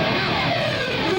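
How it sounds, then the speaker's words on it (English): Distorted electric guitar pick slide played properly, a steady, dense gritty scrape that holds at even loudness throughout with faint shifting tones inside the noise. "You have to do a pick slide correctly and it comes out like this."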